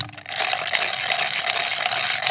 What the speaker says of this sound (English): I have a pencil sharpener, which is like the ones you used to get at school